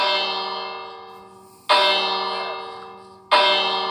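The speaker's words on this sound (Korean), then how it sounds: "자 이렇게 종을 치면은 종소리가" Minecraft village bell struck three times in slow succession, each loud bright clang ringing out and decaying smoothly before the next strike, with no talk over it.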